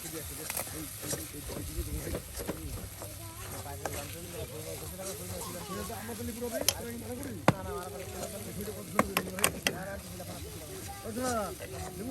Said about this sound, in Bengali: একদম তেলে ভেজে নিয়ে কিন্তু এই চাপা ভর্তা করা হচ্ছে